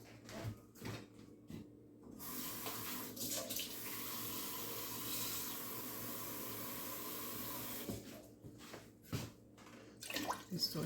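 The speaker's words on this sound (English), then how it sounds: "I'm actually going to put in some water." Water poured into a pot of seafood gumbo, a steady splashing stream for several seconds between quieter kitchen clatter.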